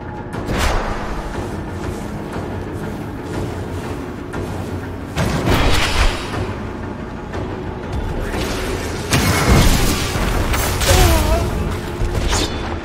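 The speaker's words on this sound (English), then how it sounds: "From the explosions right here, right?" Explosions in the Diablo 4 video game during Rogue gameplay, a series of booming, thudding blasts at about 0.5, 5.5 and 9–11 seconds, layered over continuous busy game mechanisms and effects.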